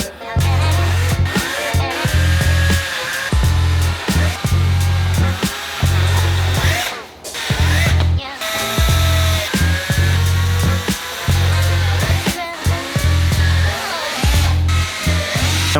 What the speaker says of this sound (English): And once all the holes are drilled